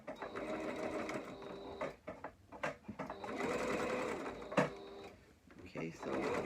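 A sewing machine zigzag stitches in short, stop-start bursts of whirring, broken by pauses, clicks and handling noises, heard up close while a person talks.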